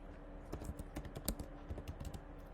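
Quick, fairly soft keystrokes tap rapidly on a computer keyboard, a close burst of typing with no voices.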